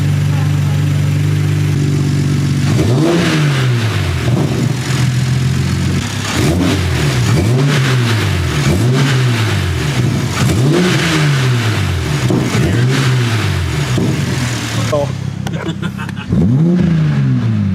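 A Toyota Supra engine with an HKS carbon intake revs repeatedly in rising and falling surges, loud and close, with a steady drone underneath and a final rev after a brief lull.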